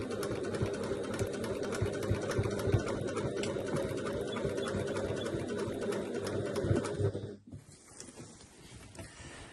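A sewing machine stitching the flap of a large messenger crossbody bag, its motor whirring in a steady mechanical rhythm for about seven seconds before stopping abruptly, leaving faint room noise.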